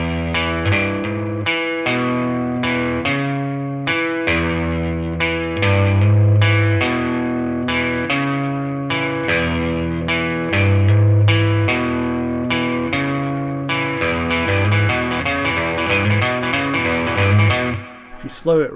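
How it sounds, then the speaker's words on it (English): Slow electric guitar blues riff, played deliberately with distinct picked notes over a steady rhythm, lightly distorted amp tone ringing out alone, ending with a brief scrape. "If you slow it right down, you got a sort of blues riff there."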